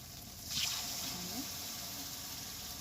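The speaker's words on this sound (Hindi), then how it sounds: "अब इमें डालबो थोड़ा से पानी।" Water is poured into a thick, fried fish curry gravy in a pan, giving a soft, steady splashing and gushing that starts after a brief pause and continues faintly.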